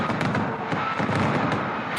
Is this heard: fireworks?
yes